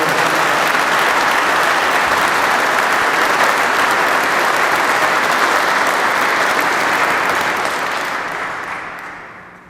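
Sustained, loud applause from the audience at a public safety award ceremony honoring the Newark North Fire Division, dense and even for several seconds before gradually fading out.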